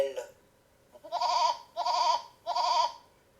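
A sheep, in a sound clip edited in Audacity, bleats three times in a row, each call loud, close and wavering, evenly spaced with short gaps, after a brief sound at the start.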